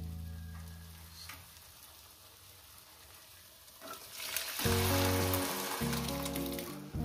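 Moong dal poured into a hot pan of sautéed spices for a rohu fish-head dal, a quiet low sizzle first, then a sudden louder rush of bubbling and hissing as the liquid hits.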